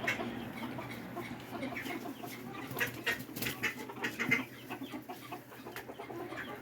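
Backyard chickens, including a broody hen, cluck softly and steadily in a coop, with scattered pecking and rustling, moderately close and without talk.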